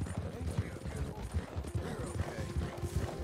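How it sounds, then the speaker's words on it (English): Horse hooves pound in a steady galloping rhythm as a fast Thoroughbred runs a long-distance race in the video game Red Dead Redemption 2, close and continuous, with someone talking over the hoofbeats. "I'm riding a 6-speed horse"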